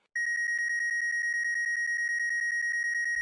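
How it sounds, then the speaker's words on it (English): Electronic alarm in a sci-fi AI control core, a steady high-pitched pulsing tone beeping rapidly and evenly for several seconds, loud and isolated with nothing else around it. "Alarm shrieked."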